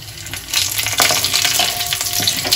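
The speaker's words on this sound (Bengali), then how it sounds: "এবার এটাকে একটু লাল লাল করে ভেজে নেব।" Panch phoron spices, torn bay leaves and dried red chillies sizzle steadily in hot oil, a close, continuous crackling fry with a brief stir and a small clink partway through.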